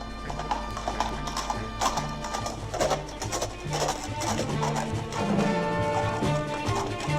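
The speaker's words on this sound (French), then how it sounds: "Et au grand galop, en route pour Canel." Horse hooves clip-clop in a fast, steady galloping rhythm, close and continuous, with a neigh and some music in the background.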